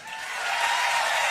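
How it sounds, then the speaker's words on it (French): Concert crowd applauding at a live rock show in Berlin, a dense broadband wash of clapping that swells and holds steady, loud and continuous with no voices on top. "Ce soir, on veut un tonnerre d'applaudissements."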